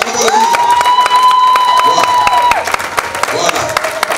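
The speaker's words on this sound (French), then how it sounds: "sentent ces acclamations-là, comment on acclame" A church congregation cheers and applauds loudly and continuously, with a sustained whistle or voice tone running through the crowd noise.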